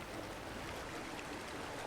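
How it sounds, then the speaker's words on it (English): Steady rushing water from a waterfall in the video game Infinity Nikki, a constant broadband roar with no pauses that fills the whole stretch at low volume, heard alone. "This is the waterfall I was supposed to take a picture of."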